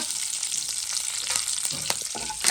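A steady hiss of frying oil crackles with small pops and spatters as chana dal and urad dal temper, close and moderately loud, with no voices.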